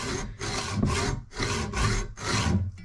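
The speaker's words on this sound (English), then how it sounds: "cutting through the bush casing, a little bit at a time" A hand saw cuts through the metal casing of an Audi TT suspension bushing, producing close, steady rasping back-and-forth strokes, about five in quick succession.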